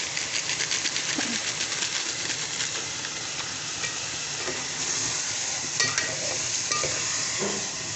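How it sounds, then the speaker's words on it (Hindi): A packet of Shan nihari masala fries in a pot with a continuous near sizzle and hiss, marked by a few scattered stirring clinks. "5 मिनट में इसको फ्राई करूँगी।"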